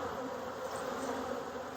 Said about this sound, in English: Just some bees drinking honey.